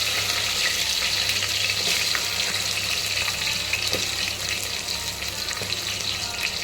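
Drumsticks frying in oil with mustard seeds, green chillies and dried red chillies, a dense close sizzle with scattered crackles and a few sharper pops, no voices.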